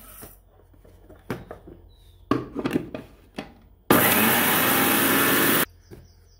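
Roasted cumin seeds ground to powder in an electric mixer grinder: after some handling knocks, a loud, steady whirring burst runs for about two seconds, then stops abruptly.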